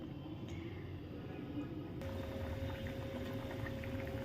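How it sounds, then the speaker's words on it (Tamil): A low, churning bubble of a pot of lentil dumpling curry boiling on the stove, steady throughout, with a faint hum in the background. "நல்லா கொதிக்குது"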